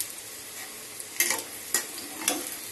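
Batter-dipped taro fritters deep-fry in hot oil with a steady, close sizzle, broken by a few sharp ticks and splutters at intervals.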